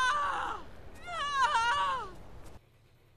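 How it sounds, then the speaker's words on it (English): A woman screams in labour in The Walking Dead video game, with rising and falling anguished cries and strained moaning wails, close and loud, before an abrupt cut to quiet. "that screaming gonna bring out the walkers"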